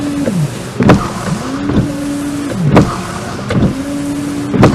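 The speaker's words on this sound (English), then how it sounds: "Hope y'all can hear the motor going." The windshield washer reservoir motor of an Isuzu VehiCROSS whirs in short, repeated bursts close by, each run separated by a sharp click or thunk, with no talking.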